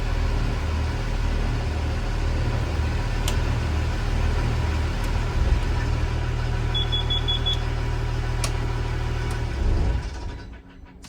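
Engines of a 44-foot Defever yacht idling in gear, a loud, steady low diesel rumble that holds for about ten seconds and then drops away, with a few faint beeps over it and no talk.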